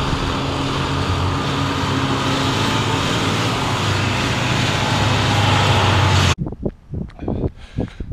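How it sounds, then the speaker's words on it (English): School buses rumble past outside in a loud, continuous roar of engine and road noise for several seconds, then cut off abruptly, leaving only a few short knocks. "school buses got a little bit loud"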